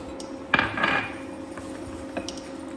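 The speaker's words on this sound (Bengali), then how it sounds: "এগুলো সব একসাথে মিক্সড করে নিলাম।" A spoon scrapes and clinks against a bowl as oats chilla batter is mixed, a loud clatter near the start followed by a few softer knocks.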